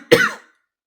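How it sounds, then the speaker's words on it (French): A woman with sinusitis and bronchitis gives a single harsh, chesty cough, close and loud, that cuts off quickly into silence. "Je tousse à peu près comme ça toutes les 5 minutes."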